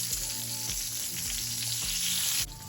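Country fried steak sizzles steadily in a frying pan after being flipped, a dense close crackle of hot oil with a low underlying hum, cutting off abruptly near the end, with no talk.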